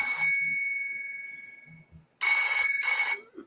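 A phone ringing with a bright electronic bell-like ringtone: a long ringing tone that fades out, a short pause, then two loud close bursts of ringing, with no talk over it.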